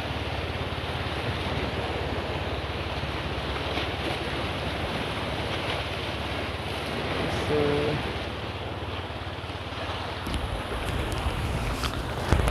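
Steady engine drone of a passenger boat on the sea near Caramoan, Camarines Sur, with wind buffeting the microphone and water rushing past the hull throughout.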